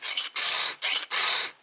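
A hand file rasps across a chainsaw chain's teeth in four close, even strokes, each a dry scraping rasp separated by brief pauses.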